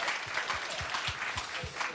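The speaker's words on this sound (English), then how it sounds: "And a round of applause for Swan" A studio audience on a game show claps for a contestant, a brisk, continuous patter of many hands with soft low thumps recurring beneath it, moderately loud and steady.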